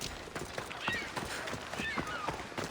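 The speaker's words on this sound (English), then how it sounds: "It's a very nice horse. A sturdy horse." Horse hooves clip-clop at a steady trotting rhythm in Assassin's Creed Odyssey, with faint game ambience beneath and no speech.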